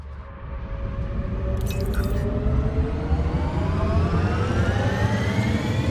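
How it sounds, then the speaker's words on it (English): Spaceship engine in the game Elite Dangerous, a steady, loud low rumble with a rising whine layered on top, holding constant throughout with a brief high chirp partway in. "I do love the engine sound on the cover."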